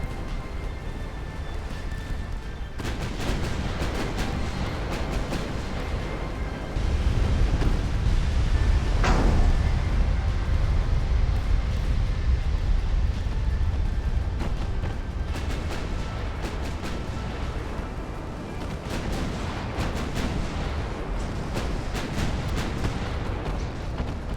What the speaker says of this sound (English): Show me your guns. It's full broadside.